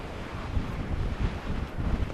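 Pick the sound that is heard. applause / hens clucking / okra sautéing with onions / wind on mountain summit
wind on mountain summit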